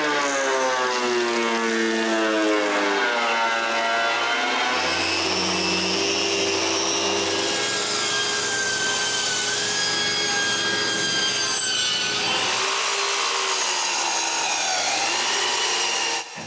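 A power tool cuts walnut wood with a loud continuous whine that shifts pitch as the blade meets the wood, then drops near the end.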